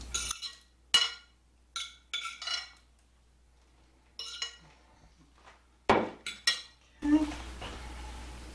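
Metal clinks and clatter from a pot and utensils come in separated bursts as ham goes back into a pot of butter beans, up close, with a brief rustling at the end.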